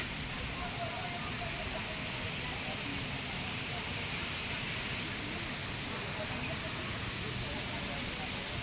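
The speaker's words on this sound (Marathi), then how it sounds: "हा बघा इथून धबधबा आहे" Steady, dense roar of rushing water filling the whole clip, a broad constant wash without breaks, from a waterfall near Khopoli heard from close by.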